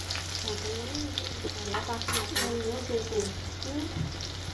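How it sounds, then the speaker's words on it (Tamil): Mutton for thokku sautéing in oil with onion, garlic and masala, a continuous soft sizzle and stirring beneath a person talking nearby. "நம்ம இதில் அதை இதில் போட்டு நல்லா சுருள வதக்கி எடுத்தோன்னா நம்மளுக்கு மட்டன் தொக்கு ரெடி ஆகிடுங்க"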